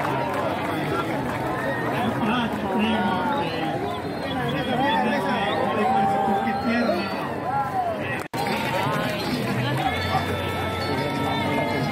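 A festive crowd cheers and chatters loudly in the open air after a rider and horse swim across a shallow river on the Colombian plains, a steady babble of voices and shouts with scattered whistles throughout.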